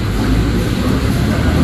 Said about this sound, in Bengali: পেছনে আবার লোকাল ট্রেন।